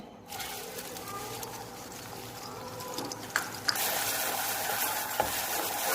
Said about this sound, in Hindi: मैंने अभी कढ़ाई में तेल डाल दिए, अभी प्याज डाल रही हूँ।